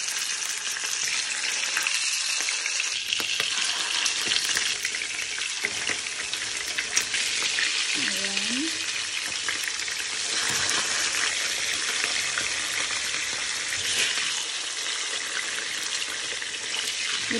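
Fish fries in hot cooking oil in a home kitchen, a constant close crackling sizzle running throughout, with occasional running water, clinks and stirring noises layered over it.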